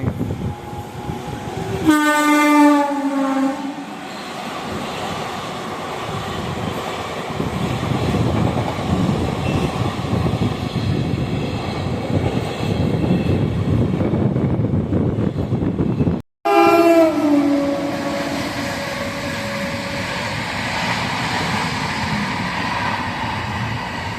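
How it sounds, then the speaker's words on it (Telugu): A train races through a remote railway station at high speed without stopping, its horn blaring loudly near the start and again later, over a steady roar and rattle of wagons that fills the whole stretch. "ఏ ట్రైన్ మనకు తెలియదు కానీ పిచ్చి స్పీడ్లో కొట్టాడు"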